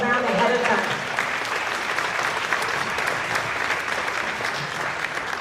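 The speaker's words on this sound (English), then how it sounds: "We're going to give them all an applause around ahead of time." An audience at an elementary school senior spring concert applauds the student soloists ahead of their performance. The clapping is steady, dense and full throughout, with a voice briefly audible near the start.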